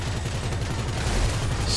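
A limo's mounted gun fires in GTA Online, a rapid, continuous stream of heavy automatic shots with a pulsing low-end thud, loud and steady throughout.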